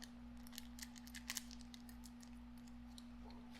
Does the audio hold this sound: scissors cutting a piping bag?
yes